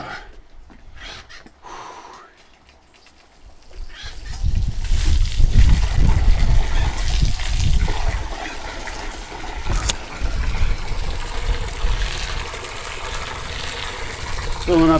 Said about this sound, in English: Filling up this dog water dish that the birds also use quite a bit.